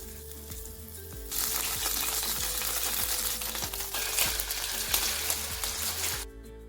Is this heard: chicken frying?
yes